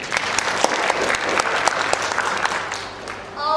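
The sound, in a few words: audience applause for the judges at a poetry slam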